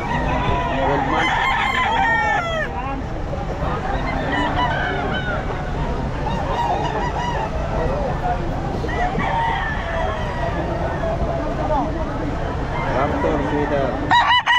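Sweater gamefowl roosters crow among clucking fowl in a crowded, noisy Bocaue pet market, with people talking continuously over the busy din.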